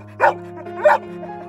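A Labrador gives two close, clear barks about half a second apart, short and sharp, over a low steady hum with no talking.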